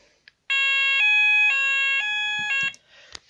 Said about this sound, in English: I've now got an Apollo based sounder